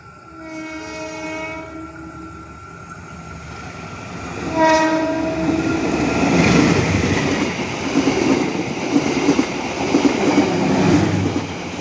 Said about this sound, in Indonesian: Ini dia KA Serayu dari Pasar Senen tujuan Purwokerto menjelang kereta api Pasundan Lebaran di stasiun Kawunganten